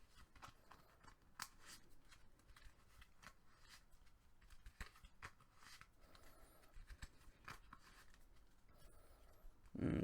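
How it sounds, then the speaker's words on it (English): Hand of playing cards shuffled during a tabletop game playtest, a run of quiet, crisp riffling and flicking bursts close by with no talk, ending in a brief louder knock. "I'm going to shuffle up the hand so that way I can have the unpredictability for neutral play"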